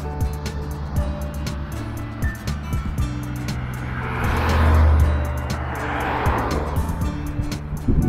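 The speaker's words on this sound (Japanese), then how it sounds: "結構車の通りがあるんですよね。" Cars passing on a road near a trailhead car park at Mount Nijo in Osaka, with a swelling whoosh of a vehicle going by mid-way amid steady traffic rumble and outdoor ambience, no talk.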